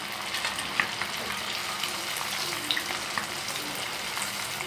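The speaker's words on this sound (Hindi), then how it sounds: "नीचे का हिस्सा अच्छा फ्राई होने के बाद ही पलटाना।" Crispy masala-coated fish fries in a pan, a steady close hiss and sizzle with scattered pops and spatters, left undisturbed with no talking.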